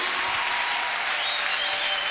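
A church congregation applauds steadily and loudly throughout, a dense, even wash of clapping with a faint tone rising late.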